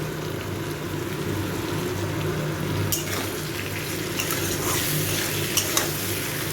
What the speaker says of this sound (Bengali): এটা ভালো করে মিশিয়ে দেব